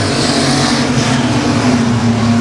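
Race cars at Timberline Speedway roar back up to speed on a restart, a loud steady wall of engine noise with a sustained mid-pitched drone, heard alone without talk.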